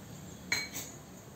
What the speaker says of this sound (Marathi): बटर किंवा तूप लावून घेऊया